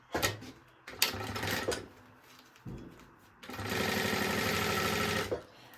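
A sewing machine stitches a baby organizer bag in short close bursts of fast rhythmic whirring, ending in one longer steady run.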